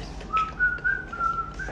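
A person whistles a song tune loudly and up close, a bright, wavering melody of short connected notes with no talk over it.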